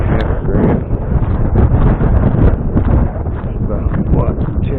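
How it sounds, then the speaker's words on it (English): Wind gusting hard over a microphone at an outdoor gold prospecting site, a loud continuous rumbling buffet with possible voices mixed in. "I know it's windy."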